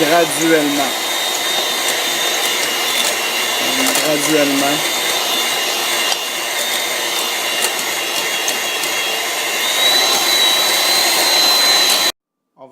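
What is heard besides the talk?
electric hand mixer beating butter and sugar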